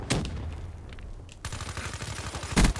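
Gunfire in Black Ops 3, a burst of rapid shots at the start, a quieter stretch, then a steady rattling volley ending in a louder blast, all close and sharp.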